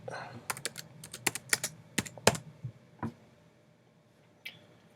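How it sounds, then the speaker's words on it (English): Quiet clicking of keys on a computer keyboard, a quick irregular run of taps that slows to a couple of isolated presses near the end. "let's type in fade up."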